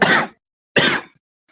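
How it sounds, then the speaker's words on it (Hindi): Two short, harsh coughs separated by a brief pause, close and fairly loud, with nothing else around them. "तुम्हारे आंसर सुन के खांसी आ जाती है।"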